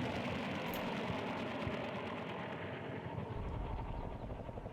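Helicopter in the video game Combat Mission: Cold War, a steady rotor thrum with a rapid chopping pulse and engine whine, holding at a constant level throughout with no talk.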